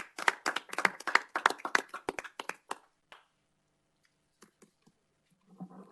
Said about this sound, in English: we're going to give them the applause now